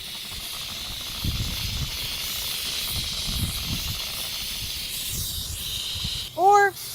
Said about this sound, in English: I've pushed this and it's locked for continuous steam.